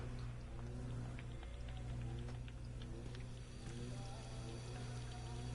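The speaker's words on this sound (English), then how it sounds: "The faucet is leaking." Leaking faucet dripping inside a house in the video game The Park, heard as a steady wash of fine drips and patter over a low hum, with soft irregular taps throughout.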